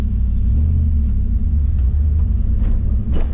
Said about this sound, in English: Very nice idle for this car. Very smooth.